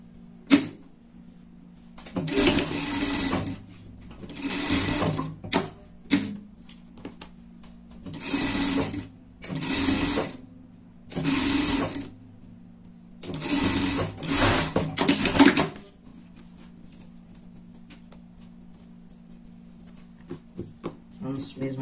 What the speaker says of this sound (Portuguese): aqui a gente vai passar uma costura por tudo, deixando aqui em cima pra gente virar a nossa peça